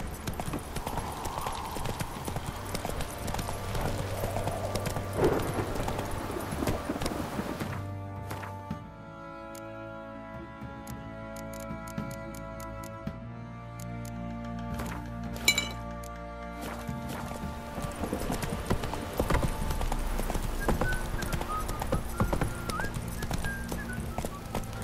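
Horse hooves clip-clop at a gallop in The Witcher 3, a steady pounding rhythm with jingling tack and clinks, running under game music and ambience with a brief lull midway.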